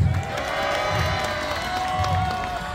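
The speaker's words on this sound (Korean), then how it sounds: "환호해주세요." A crowd at an outdoor residents' assembly in a city hall plaza cheers and claps in a sustained wash of noise, moderately distant with some shouts and whoops mixed in.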